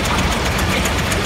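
A 1916 Happy Farmer row-crop tractor, 102 years old, rumbles steadily in a parade, its low, continuous engine chug up close with a faint rhythmic beat and no voices.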